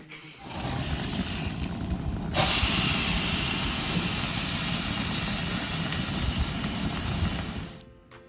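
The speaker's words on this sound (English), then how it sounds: "He's grilling up some flank steak." Flank steak sizzling on a grill, a loud steady hiss that swells suddenly after a couple of seconds, holds evenly, then cuts off near the end, with no voices.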